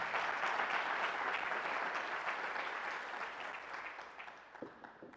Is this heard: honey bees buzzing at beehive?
no